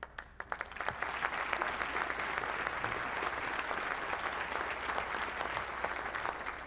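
A college voters forum audience applauds in a full, sustained round of clapping that rises quickly and holds evenly, a dense crowd sound with no talk over it.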